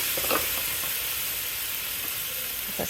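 Frozen onions sizzling in a hot pan for vegetarian chili, a continuous loud frying hiss with a few faint stirring scrapes, close up and without talk.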